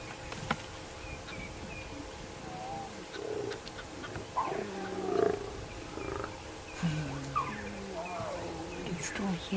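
Lion cubs making begging calls near a snarling lioness on an evening safari drive, soft intermittent mewing and whining cries over a quiet bush background with birds and insects.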